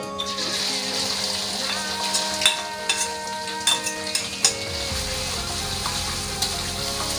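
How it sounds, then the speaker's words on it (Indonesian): Steady oily sizzling of anchovies frying in a pan, with scattered clinks and stirring knocks over a continuous hiss. "Ayo kita goreng dulu terinya ya."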